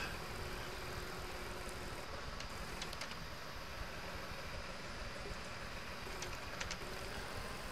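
A damaged tractor engine idles in the farming game Farm Expert 2017, a faint, steady low rumble with a continuous mechanical drone and a few brief clicks, heard alone without talk.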